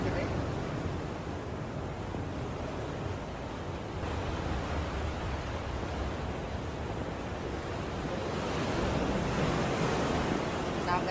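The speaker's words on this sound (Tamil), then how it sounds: "அலை சத்தம் நல்லா கேட்குது" Steady roar of ocean surf washing in and echoing inside a sea cave at Thousand Steps Beach, Laguna Beach, a continuous broadband rush that swells slightly louder toward the end, with no voices.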